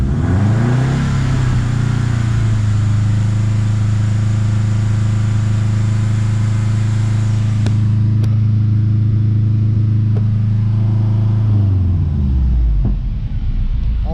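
A Subaru WRX engine with a suspected mass airflow sensor fault revs up and holds a steady, loud, close drone near 3,300 RPM, then drops back toward idle, with a few clicks at the end.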